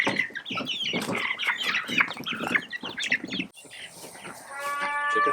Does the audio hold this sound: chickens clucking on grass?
yes